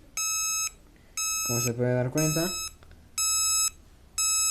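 A gas sensor alarm in a home automation sensor setup beeps in repeated loud, steady electronic bursts, each lasting about half a second, with someone speaking briefly between the beeps.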